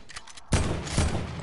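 Bursts of automatic gunfire from a shooter video game, a brief faint patter followed by loud, close, rapid rattling fire with a couple of heavier surges.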